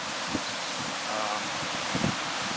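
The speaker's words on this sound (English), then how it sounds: "Really windy day right now, which would figure." Gusty South Dakota wind buffets and rustles across the microphone in a broad, steady wash of noise, with a few soft thumps and no talking.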